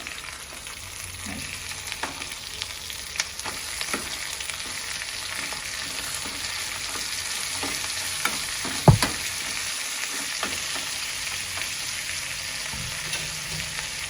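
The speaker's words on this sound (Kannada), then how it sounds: "ಈರುಳ್ಳಿ ಸ್ವಲ್ಪ ಫ್ರೈ ಆಗಿದೆ" Steady oil sizzle of onions frying in a pan, continuous and close, with occasional scraping stirs and one sharp clink partway through.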